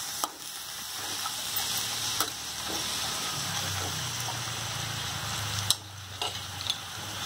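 A spinach chutney mixture (chukkakura, a sour greens) is stirred in a pan, giving a steady soft scraping and sizzling bed with a few sharper utensil knocks, close and continuous, with no talking.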